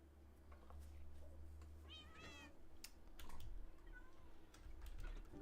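A pet cat meows a couple of times in a quiet room, the short rising cries standing out above a steady low hum and scattered keyboard clicks.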